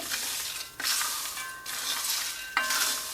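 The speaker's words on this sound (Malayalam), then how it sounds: "ഒരു രണ്ട് മിനിറ്റ് നന്നായിട്ടൊന്ന് വറുത്തെടുക്കുന്നുണ്ട്" Spicy peanuts roast in a pan with a steady dry sizzle, broken by three bursts of stirring, each a scraping rush that fades back to the crackle; close and fairly loud with no voices.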